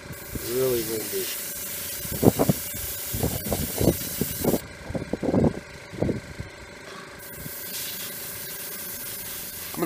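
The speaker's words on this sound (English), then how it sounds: "time to spray that chassis" Short bursts of aerosol spray paint on a Majorette Citroen model car chassis hiss close by in an irregular series, with wind noise and a voice talking briefly at the start.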